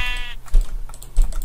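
A sheep bleats once in the video game Minecraft, a short nasal bleat at the start followed by a few soft thumps and keyboard-like clicks.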